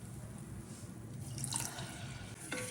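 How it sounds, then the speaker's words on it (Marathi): Water poured from a vessel onto sugar in a pan for syrup, a soft, close trickle and splash that grows briefly louder, then a few drips at the end. "थोडं पाणी घालायचं. साखर बुडेल इतकं पाणी घालायचं आहे."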